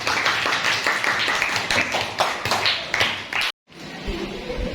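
Classroom audience of students clapping at a school activity, a steady run of close, sharp handclaps for about three and a half seconds before a sudden cut to quiet room tone.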